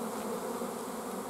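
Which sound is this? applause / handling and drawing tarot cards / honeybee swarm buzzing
honeybee swarm buzzing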